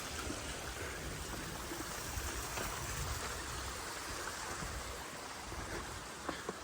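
A stream flows along a hiking trail after rain, a steady, soft, continuous rush and trickle of water heard from nearby with no talking.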